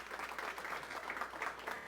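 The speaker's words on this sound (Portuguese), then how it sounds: "Uma salva de palmas." Audience applause for a panel moderator at a smart-cities panel, a steady, fairly quiet patter of clapping heard from a distance and lasting the whole short stretch.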